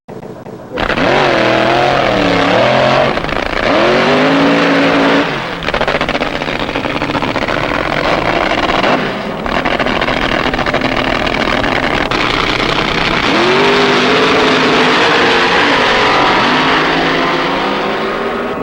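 Funny car drag racing engines from 1974, loud throaty roars that rev up and fall away in repeated surges, close and dominant for the whole stretch, with someone talking underneath.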